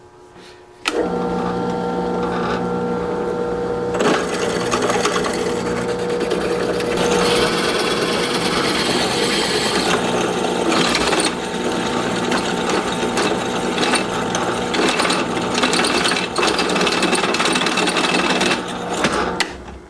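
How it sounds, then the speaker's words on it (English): A power drill whirs steadily and loudly for nearly twenty seconds, drilling a hole in metal on a Honda Sabre motorcycle project, with a grinding, rattling edge as it works in, then stops. "So let's go ahead and drill that hole."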